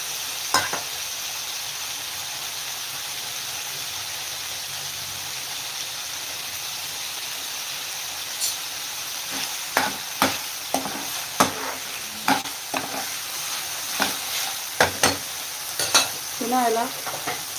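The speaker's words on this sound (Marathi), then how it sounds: "मी आता कापलेले बटाटा पण ॲड करून घेते." Chopped potatoes frying in a pan for a methi aloo masala with coconut milk, a steady sizzle at first and then a run of close scraping stir strokes in irregular bursts over the hiss.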